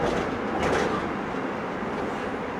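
Beijing subway train riding on Line 1, a steady loud rumbling roar of the moving car with hissing wheel and track noise, heard from inside the carriage.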